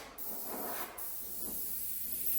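An airbrush sprays paint in steady hissing bursts while flames are laid onto a surface, with a brief pause near the start and the fine spray continuing close and even.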